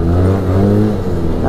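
Arctic Cat Wildcat Trail XT side-by-side engine revving up close, a loud, steady mechanical drone with a brief dip near the end.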